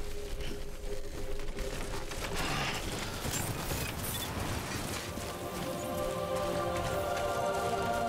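Steady rain patters in the video game Death Stranding, a continuous wash of drops with faint mechanical creaks. Tonal game sounds drift in and out beneath it.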